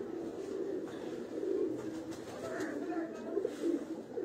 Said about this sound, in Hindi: ये कबूतर अगर आप देखें तो ये कुछ जंगली कबूतर हैं, ये जा रहे हैं